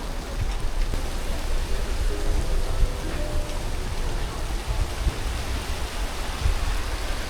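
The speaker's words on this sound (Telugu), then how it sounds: "మొత్తం పిచ్చి పిచ్చిగా వర్షం పడుతుంది." Heavy rain falls outside during gloomy overcast weather, a dense continuous hiss of steady downpour holding at an even level throughout, with no clear voices over it.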